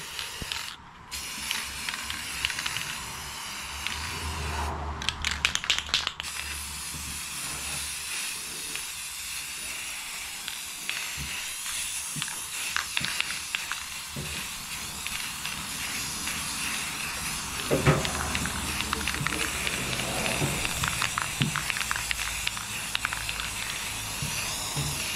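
An aerosol coating sprayed onto a 2004 Craftsman LT1000 lawn tractor, with steady hissing bursts interrupted by brief clicks and rattling near and fairly quiet.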